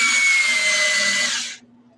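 A battery-powered drill whirs steadily at high speed while boring a perch hole into a large wooden ornament, then winds down abruptly as the battery dies, leaving a faint low hum.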